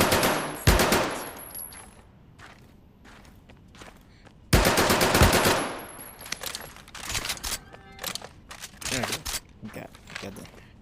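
Automatic fire from an MP40 submachine gun in the Medal of Honor video game: two loud sustained bursts, each trailing off, separated by scattered single shots and clatter, with talk partly audible in between.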